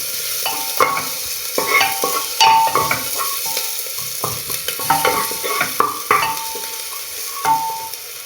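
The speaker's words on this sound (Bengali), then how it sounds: "পেঁয়াজ কুচি, মিডিয়াম আঁচে দেবো এটা" Chopped onion fries over medium heat in a pot for coriander chicken soup, giving a steady sizzle broken by repeated stirring scrapes and clinks of a utensil, close and moderately loud with no talking.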